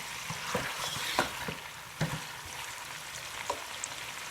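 Chopped green chilies being stirred in a frying pan, a steady close sizzle broken by several spoon scrapes and clacks against the pan, with no voice.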